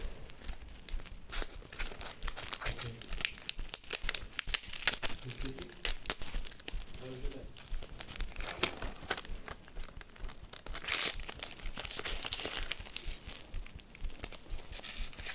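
A plastic packet being opened with repeated close, crisp crinkling and tearing, steady throughout, while a person talks over it.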